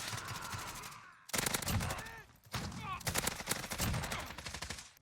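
Rapid automatic fire from a Bruen Mk9 rifle in a video game, loud bursts of repeated shots separated by brief pauses, with game sound effects layered in.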